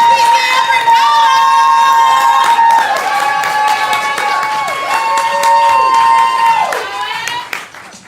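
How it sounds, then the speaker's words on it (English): A poetry slam audience cheers and claps loudly and continuously, with shouts and whoops riding over dense applause for most of eight seconds before it tapers off near the end. "Give it up for the poet and keep clapping, keep clapping, keep clapping."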